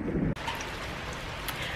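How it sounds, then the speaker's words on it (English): Steady rain falls outdoors around a rural homestead garden and chicken yard, a dense continuous hiss of drops on surfaces with no talking. "in the moments I was in the house changing out the battery, the rain came back"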